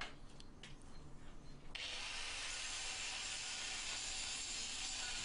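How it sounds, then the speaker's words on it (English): A powerful cheap electric grinder grinding metal parts for a homemade rotary positioner: a few short scraping touches, then a sustained loud high grinding whine that runs to the end. "Now I'm just going to grind them."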